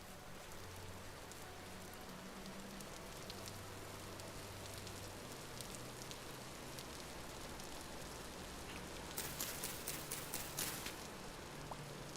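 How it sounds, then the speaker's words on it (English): Steady rain pours in the survival video game Vintage Story, a dense constant hiss that holds throughout, with a brief cluster of brighter patters near the end. "Rain."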